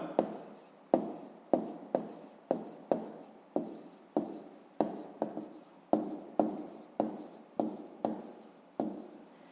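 Pen strokes writing out a fifth-grade maths solution for a square's side and perimeter: a steady series of sharp, close scratches in an even rhythm, about sixteen strokes with no talking over them.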